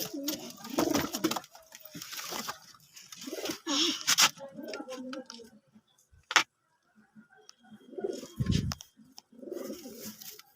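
Pigeons coo in short, uneven bursts separated by quiet gaps, with a sharp click partway through and a louder low burst near the end.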